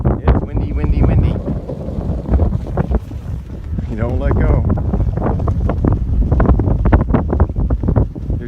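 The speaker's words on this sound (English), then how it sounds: "It's windy" Strong wind buffets the microphone outdoors during kite flying, a constant loud rumbling roar throughout while people talk over it.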